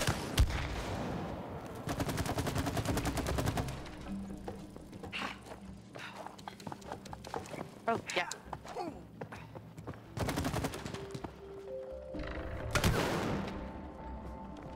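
Sniper rifle shots ring out at a shooting range in the co-op video game It Takes Two, several loud sharp cracks with trailing echoes spread across the stretch, mixed with game music and other effects.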